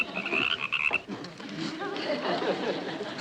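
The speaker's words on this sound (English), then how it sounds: "They just don't make frogs the way they used to in Transylvania." Frogs croak in a comic horror sitcom scene set around a Transylvanian-style household, a series of close, throaty warbling croaks that shift in pitch, loud and alone with no talking over them.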